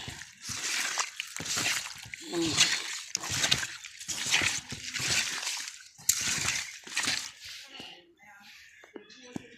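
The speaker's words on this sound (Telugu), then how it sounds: "ఉప్పేసి బాగా కడగాలి" Freshly caught small fish washed by hand in salted water, with repeated close splashing and sloshing in short bursts and a person talking over the rinsing.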